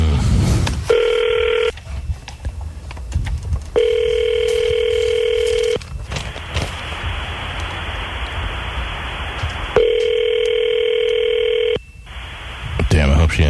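A telephone's ringback tone sounds over a phone line in three long steady bursts with hissing gaps between them, and someone talks at the start and the end.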